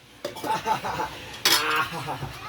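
A pot lid clanks down onto a cooking pot of vegetables simmering in meat broth, a sharp metallic clatter midway after softer kitchen clinks.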